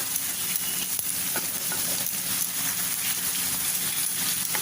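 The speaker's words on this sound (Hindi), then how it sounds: "तो भूनेंगे थोड़ा।" Onion, green chilli and ginger-garlic paste fry in a pan, giving a steady, close, dense sizzle that carries on evenly throughout with no voices.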